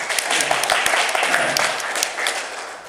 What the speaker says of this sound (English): Give him a round of applause to get him fired